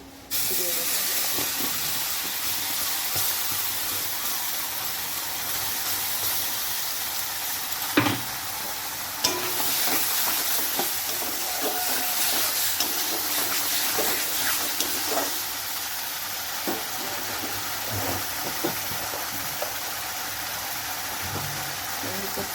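A steady, close sizzle of pointed gourd paste frying in a pan runs throughout, broken by occasional clatters and knocks.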